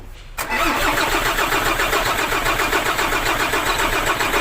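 A freshly overhauled engine cranks briefly and then catches, settling into a loud, steady running rumble close by. No one speaks over it.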